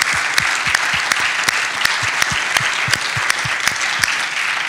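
Steady, dense applause from an audience honoring a cousin from St. Louis, loud and continuous with sharp individual claps popping through the wash of clapping.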